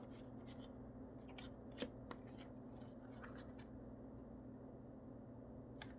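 Cards being drawn during a Terminator Dark Fate board game session, giving soft papery flicks and slides at close range over a steady room hum, with one sharper snap partway through.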